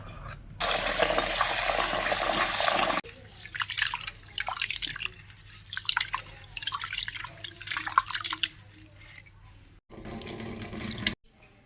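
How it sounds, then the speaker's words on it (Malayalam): Rice is rinsed under a running tap, water gushing loudly into a vessel, then swishing and clattering as the grains are stirred and drained, with a short final burst of flowing water. "നല്ലോണം അരി കഴുകട്ട് ഒരു മൂന്ന് പ്രാവശ്യം കഴുകിയാൽ മതി"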